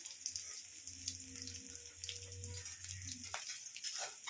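Two garlic cloves and a slit green chilli frying in oil, a faint, continuous sizzle and crackle heard close by, with a low hum beneath it.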